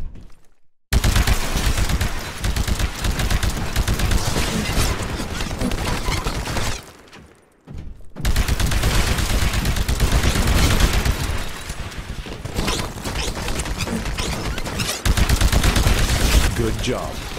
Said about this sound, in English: Destroy the Titan with your anti-Titan weapon.